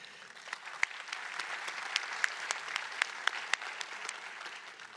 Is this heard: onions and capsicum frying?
no